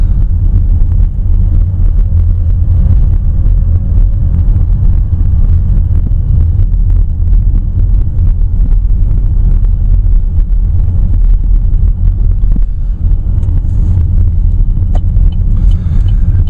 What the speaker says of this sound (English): by listening to the engine from in here, it sort of does have that diesel sound